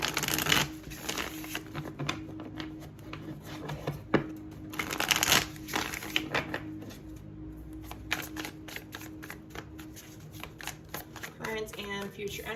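Tarot cards being shuffled in a steady run of crisp riffling and slapping bursts, fairly close and moderately quiet, with a soft background hum and occasional louder flurries.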